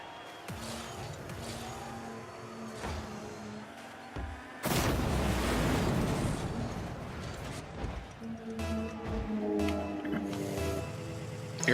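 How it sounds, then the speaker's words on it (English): A motorcycle races past fast, a loud broadband roar that swells suddenly midway and lingers, heard over a rocket-car soccer game. "There was a motorcycle going by."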